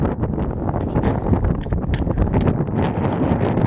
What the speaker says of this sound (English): you can see it's kind of windy today